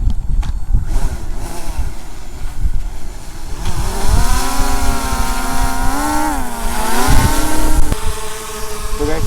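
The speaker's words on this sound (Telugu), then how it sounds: "ఇక్కడి నుంచి మనం డ్రోన్ ఫ్లై చేస్తున్నాం" A camera drone lifts off from open ground near Vijayawada International Stadium in Mangalagiri, Guntur. Its rotors build into a loud, buzzing whine that climbs and wavers in pitch as it takes off.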